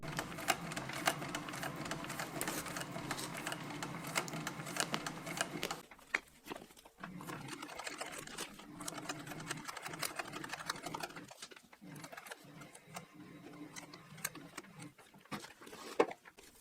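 A sewing machine stitches through bulky layers of an insulated lunch bag in fast, rattling runs, stopping and restarting several times, close and fairly quiet, with no talk.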